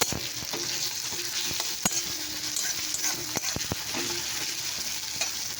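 Fried onion with ginger-garlic paste stirred in a pan, a steady close sizzle with scraping stir strokes and a few sharp utensil clicks against the pan, no talking.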